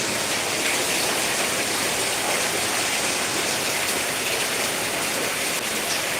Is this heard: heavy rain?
yes